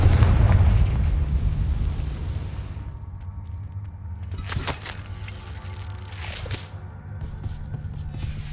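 A Confringo spell explosion in the video game Hogwarts Legacy opens with a heavy, booming blast that rumbles away, followed by two smaller crackling bursts over a low background drone.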